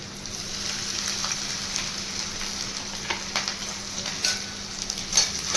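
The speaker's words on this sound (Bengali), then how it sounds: "দু সেকেন্ড ভাজবো, আদা রসুনটাকে 2 সেকেন্ড ভাজবো।" Chopped ginger and garlic fry in hot oil in a pan for fried rice. A constant, close, moderately loud sizzle runs throughout, with small crackles and light stirring sounds.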